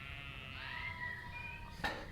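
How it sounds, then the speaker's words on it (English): Sheep and lambs bleat in a field at dusk, their long wavering calls coming faint and distant over a steady outdoor background, with one sharper, nearer cry at the end. "You can hear the lambs and the sheep to my left."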